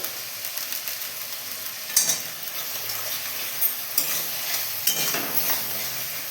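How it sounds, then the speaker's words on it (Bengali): Spices frying in a pan for a Bengal gram dal, stirred with dry red chilli powder: continuous close sizzle broken by a few spoon scrapes and clinks, no speech. "আবারও একটু নেড়ে দেবো একটু শুকনো লঙ্কার গুঁড়ো"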